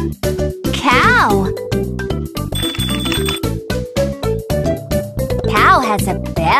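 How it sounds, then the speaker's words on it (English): A cow's bell rings with a bright, sustained metallic tone for about a second, set amid cheerful children's music with short playful sounds around it. "Cow has a bell."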